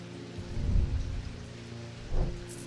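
Thunderstorm in the video game Strange Antiquities: constant rain hiss beneath two deep rumbles of thunder, the first longer and the second a sharper swell near the end.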